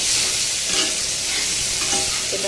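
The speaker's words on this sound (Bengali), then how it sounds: "শুধু আলুটা দিয়ে দিলাম, লবণ আর হলুদ দিয়ে আলুটা মেখে রেখেছিলাম।" Potatoes coated in salt and turmeric hit a hot pan and sizzle in a steady, close hiss, with some stirring clatter mixed in and no talking.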